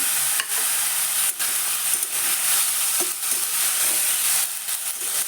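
Mixed vegetables with salt frying in a pan, a loud continuous sizzle with occasional stirring scrapes cutting through, close and without talk.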